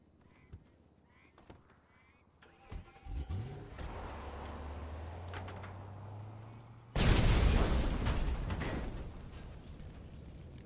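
A sudden loud explosion in Grand Theft Auto Online bursts in after engine rumble and scattered game noises, leaving a broad roaring blast that slowly fades.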